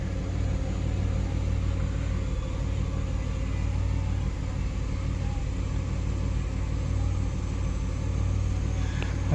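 A 2003 Ford Explorer's 4.0 V6, which has a timing chain problem, idles steadily nearby, its low, even rumble holding unchanged throughout with no voices.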